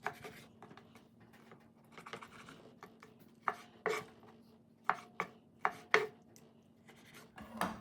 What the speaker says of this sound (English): what I'm going to do now is cut the fish up to nice little pieces